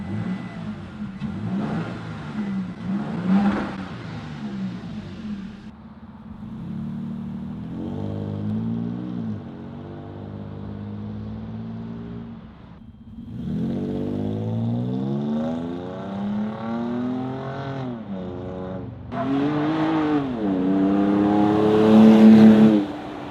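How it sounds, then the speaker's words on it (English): A Toyota Tacoma fitted with a Corsa 3-inch exhaust revs repeatedly, the engine climbing and falling in pitch through several strong throttle blips, loud and close, ending in a sharp high rev. "So we got our Corsa exhaust fully installed. Let's go ahead and set this down and see how it sounds."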